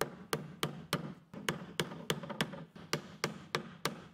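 Hammer strikes driving nails into a wooden upper mounting block for a dump-truck playground ramp, about thirteen sharp, evenly spaced blows in a steady rhythm, close and clear with no talking.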